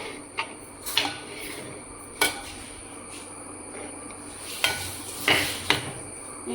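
A spoon clinks and scrapes against a pan while a semolina and rice flour mixture is stirred and sautéed for Kerala chakka ada, giving several sharp, irregular metallic taps over a steady background hiss.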